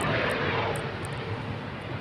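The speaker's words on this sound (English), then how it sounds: "Aeroplane, British Airways, on time." A British Airways airliner passes overhead as a steady, broad roar that stays loud for the whole stretch, with no voices.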